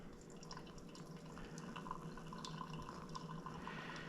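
Hot water, about 70 grams, poured over coffee grounds in a pour-over brewer to let them bloom, giving a soft, steady, close trickle with faint dripping and no talk.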